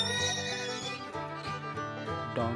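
A horse whinnies loudly and close, a long wavering neigh that rises and shakes throughout.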